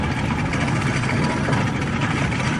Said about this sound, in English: Showman's type engine following on after the Marshall was originally a tar spraying roller